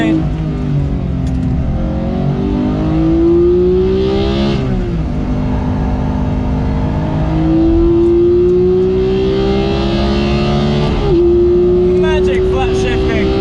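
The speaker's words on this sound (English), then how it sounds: "Magic flat shifting." A Porsche 991 GT3 engine revs hard through the gears, its rising howl cut by quick flat shifts that drop and climb again, loud and close from inside the car.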